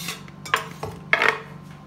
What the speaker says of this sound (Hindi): अभी टोमेटो डाल रही हूँ।